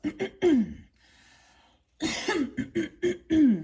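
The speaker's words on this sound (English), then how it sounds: "I need to clear my throat." A person clears their throat several times in harsh, rasping bursts, with a short quiet pause in between and a longer cluster of coughs after.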